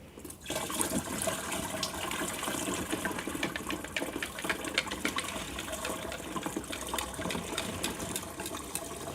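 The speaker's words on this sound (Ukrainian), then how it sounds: "Тепер до нашої суміші доливаємо стільки води, щоб вийшло 8 літрів." Water pours steadily into a garden sprayer tank to top up a fruit tree spray mixture to 8 litres, a continuous splashing fill that starts abruptly and runs on, close and unbroken.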